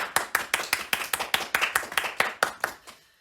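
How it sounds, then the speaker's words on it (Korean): A church congregation gathered for an online Sunday service claps in unison for a child's birthday, a steady run of about fourteen sharp, evenly spaced claps ending abruptly, with no talk over it. "다 같이 우리 라엘의 생일을 박수로 축하하겠습니다."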